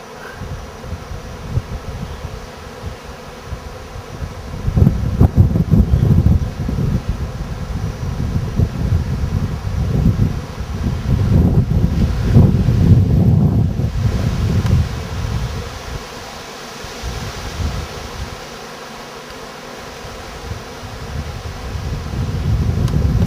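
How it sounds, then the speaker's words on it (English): A huge swarm of bees at a hunting camp drones in a dense, continuous low buzz that swells and fades over about twenty seconds, with wind rushing across the microphone at times. "the sound is, I can't describe it, it's just a buzz."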